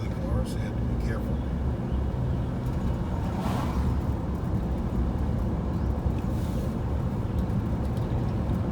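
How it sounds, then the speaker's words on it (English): A car approaches on a winding mountain road near Primland, Virginia, a steady broadband road and engine rumble heard from inside a moving vehicle, with a soft swell as the other car passes. "And here comes another car, so you have to be careful."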